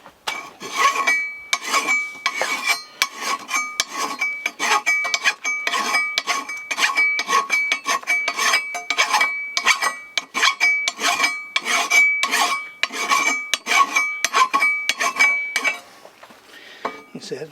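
A Simmons hand file sharpens the chain of a McCulloch Pro-Mac 610 chainsaw in close, steady, rhythmic rasping strokes. Each stroke carries a faint metallic ring, and the strokes repeat evenly for about fifteen seconds before stopping.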